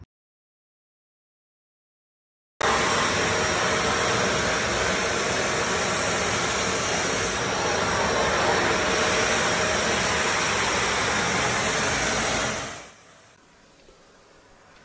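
After a few seconds of silence, a wet vacuum cleaner sucking up floodwater roars loudly and steadily for about ten seconds, then winds down and switches off.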